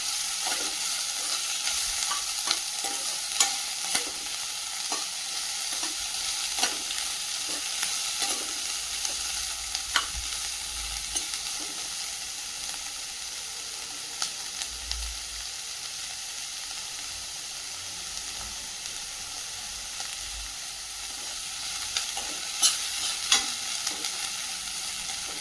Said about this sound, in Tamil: நல்லா ஆனியன் நல்லா பொன்மருவலாக வறுத்துக்கோங்க.